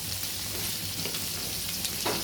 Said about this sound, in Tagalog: una ilagay natin ang ating prawn. Gisa-gisa lang natin siya.